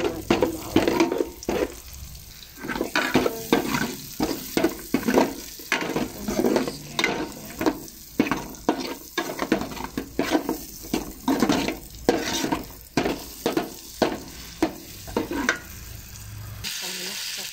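Browned garlic and macaroni sautéing together in a pan make a continuous sizzle under a long series of rhythmic scraping stirs, roughly one every second. A brief rush of water comes near the end, and no one speaks.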